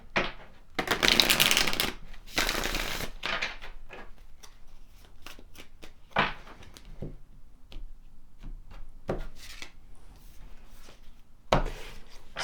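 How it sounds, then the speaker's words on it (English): Tarot cards shuffled and drawn from the deck: two long, dense bursts of riffling near the start, then scattered short slaps and flicks as cards are pulled and laid down, close and fairly loud with no talking. "Let's pull some more tarot cards to see what wants to come forward."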